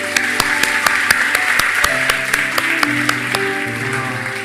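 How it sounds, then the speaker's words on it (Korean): Congregation applauding during a Sunday church worship service, a dense steady wash of clapping lasting throughout with sustained organ or keyboard chords underneath and no talking. "우리 한번 하나님께 감사의 박수를 드리겠습니다."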